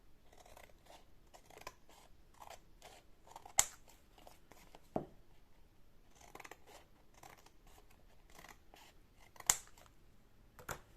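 Scissors snip paper scraps for a handmade card, giving a run of quiet, crisp cuts in a steady rhythm with a few sharper clicks, close and alone.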